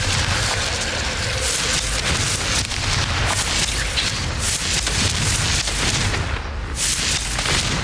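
A Confringo blasting spell explodes in the Hogwarts Legacy video game, a loud, booming burst with rumbling low-end blast noise that fills the whole span without pause.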